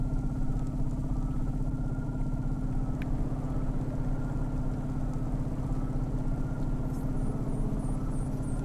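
Steady rain mixes with a low, constant vehicle engine drone in the Cloudpunk video game, with a brief warbling electronic tone near the end.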